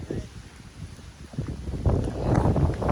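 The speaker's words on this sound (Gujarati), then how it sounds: "ફૂલ પવન સાથે હવે ચાલુ થયો વરસાદ" A summer downpour arrives with strong wind by a stormy sea, heard as loud, gusting wind buffeting the microphone that swells toward the end, with people talking underneath.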